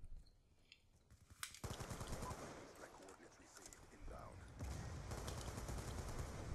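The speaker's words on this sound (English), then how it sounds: "this AR-94 is tearing it" AR-94 assault rifle fire in Black Ops 2 multiplayer on the Uprising DLC map Magma, rapid bursts of gunshots loud and close, with game effects and faint voices mixed in.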